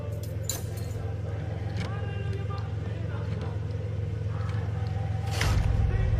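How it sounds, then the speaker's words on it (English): A car left running unattended on a city street, a steady low engine idle hum underneath, with faint clinks and background noises and a rise in rumble near the end. "has left her vehicle idling on the street"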